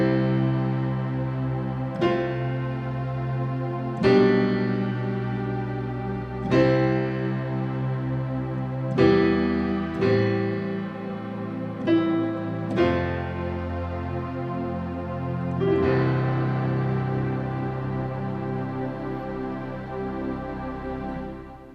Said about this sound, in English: this one's particular patch is called Name Pad, and combined with the piano it sounds like this